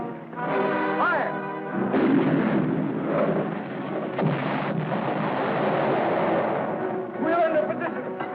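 Cannons boom at a Civil War reenactment, heavy blasts mixed with loud shouted commands and crowd voices throughout, close and chaotic.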